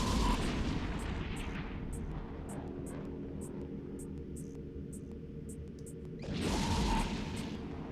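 Ship weapons fire in the space game EVE Online as heavy, booming blasts, a loud rumbling barrage at the start and again near the end, with a regular faint ticking pulse between.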